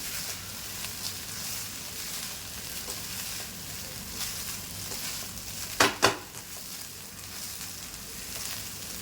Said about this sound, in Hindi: हमें 2 स्पून लेके हल्के हल्के हाथ से मिक्स कर लेना है इसको।